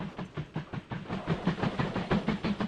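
A train in the video game Mashinky runs with a steady, rhythmic clickety-clack of wheels over rail joints, fairly quiet and even-paced throughout, with no voices.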